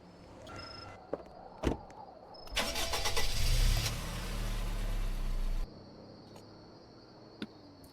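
A car in a police roleplay video game pulls away: a quiet engine revs up and roars for a few seconds, then cuts off abruptly, with a few faint clicks and a steady high insect-like hiss throughout.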